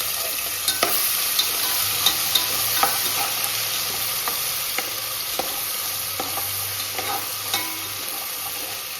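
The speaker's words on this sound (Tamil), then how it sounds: "இது எண்ணெயில் பொரிஞ்சு வந்தோடனே" Ginger and garlic fry in hot oil for pulao, a steady close sizzle broken by sharp ticks and scrapes from a stirring utensil against the pan, with no voices.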